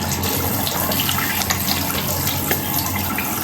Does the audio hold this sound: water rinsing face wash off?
yes